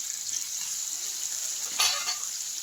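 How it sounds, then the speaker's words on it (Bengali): Fish frying in a pan cooked alongside aubergine and potato, a steady bright hiss of hot oil that rises to a brief louder spatter near the end, close and continuous with no voices. "মাছ ভাজা একদিকে"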